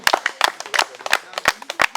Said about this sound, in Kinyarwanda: Mwafasha tugakomera Imana amashyi menshi cyane.